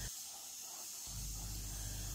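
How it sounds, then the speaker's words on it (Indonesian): Ground spice paste mixed with rice frying over a low flame in a pan for soto daging Madura, a soft, steady sizzling hiss that grows fuller about halfway through. "Pada saat menggoreng bumbu seperti ini, apinya kecil aja dan kita menggorengnya cukup lama"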